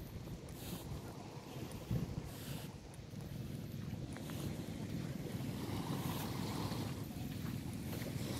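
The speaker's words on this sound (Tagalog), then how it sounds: "Ayan, maalon dito." Rough sea waves wash against the shore of Magalawa island, a continuous low rumbling surf mixed with gusty wind buffeting the microphone.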